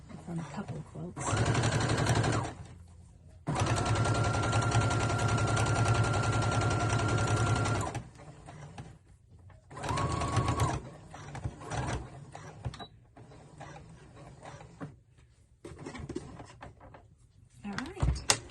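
An embroidery machine stitches out a treat jar koozie made from leftover quilt fabric, its rapid mechanical needle chatter running in long loud bursts separated by pauses and quieter handling sounds.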